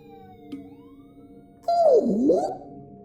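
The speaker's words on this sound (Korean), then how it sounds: "이윽고 멀리서 구급차의 사이렌이 들렸다." An ambulance siren wails, rising and falling briefly, sounding somewhat distant, over a quiet background with a faint tone.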